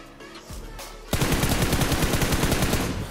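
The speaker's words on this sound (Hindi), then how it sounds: "तो मैं इसके सिर को भर देता हूँ गोलियों से" Automatic weapon fire in a PUBG-style battle royale game, a loud fast burst of evenly spaced shots that starts abruptly and rattles on for about two seconds.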